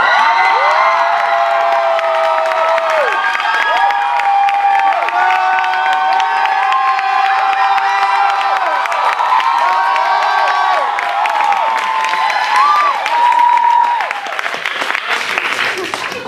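Audience at a one-person comedy show clapping loudly and cheering with whoops and shouts, dense and sustained, tapering slightly near the end.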